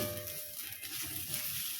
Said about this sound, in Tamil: அதையும் சேர்த்து நல்லா ஃப்ரை பண்ணிக்கலாம்